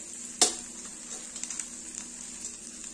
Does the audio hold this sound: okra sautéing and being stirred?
yes